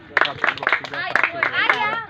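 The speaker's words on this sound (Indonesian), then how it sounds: "kelompok 1 yang di belakang harus tepuk 337" A group at a beach outing claps a rhythmic 3-3-7 pattern, sharp clustered claps in short bursts, with voices chanting or talking over them.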